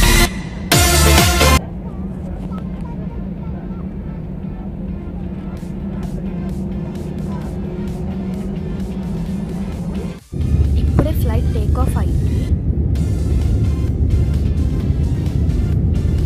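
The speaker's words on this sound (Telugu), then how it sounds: "ఫ్లైట్ టేక్ ఆఫ్కి రన్వే మీద రెడీగా ఉంది." Aircraft engine rumbling steadily on the runway before takeoff, a loud broadband roar that continues with a brief dip and returns stronger, with some speech over it.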